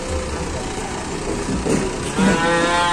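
Cattle loaded on a modified Elf truck at a market moo in drawn-out calls, with a louder low moo near the end, over idling engine noise and a steady background bustle.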